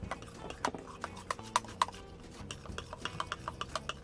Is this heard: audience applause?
no